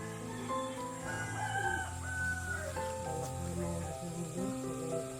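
Roosters crow in a long drawn call with several overlapping harmonic voices, steady and fairly close, with no talk over it.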